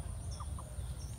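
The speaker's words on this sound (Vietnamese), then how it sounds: "ở đây có nhiều gà lắm" Chickens in a farmyard make a few short, soft clucks over a steady low background rumble, with no voices.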